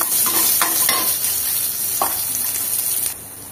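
Ginger and garlic tossed into oil with browning cumin and fennel seeds, giving a loud, close sizzle with repeated stirring scrapes and clicks of a spoon against the pan, no voices.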